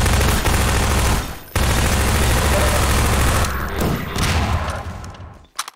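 Sustained automatic gunfire from Half-Life 2 rattles loud and close in dense bursts. It cuts out briefly once, resumes, then thins and breaks up into scattered shots before stopping.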